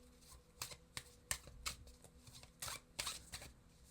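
Animal oracle card deck being shuffled, a quiet run of crisp, irregular riffling snaps and flutters, close by with no talking.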